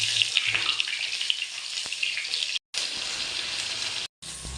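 Fish sizzling in hot oil in a kadai after being turned over, a loud continuous crackling fry with small spatters and two short gaps.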